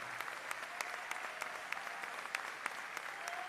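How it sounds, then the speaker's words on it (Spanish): Quiet, distant applause from a concert audience after a contemporary chamber ensemble's gala performance, a continuous wash of clapping with occasional sharper individual claps standing out. "Fuerte el aplauso para Cristian Gálvez y el ensamble de Cámara Contemporáneo"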